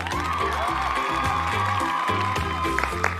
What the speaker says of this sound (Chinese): 所以我们依然还是掌声请出我们的老朋友